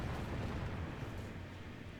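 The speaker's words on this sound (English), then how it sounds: "They're being hit by the cannons as well" Cannon fire in the Lucium Total War mod during a battle against Prussians, with a cavalry charge underway: a dense, continuous rumble of overlapping booms at steady loudness, with no voices.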